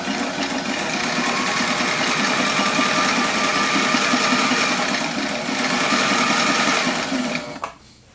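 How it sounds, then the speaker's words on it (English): A walking foot sewing machine runs steadily through motorcycle inner tube rubber, a continuous fast mechanical whir and rhythmic needle chatter lasting about seven seconds before it stops abruptly. "let's see how this sews on these machines."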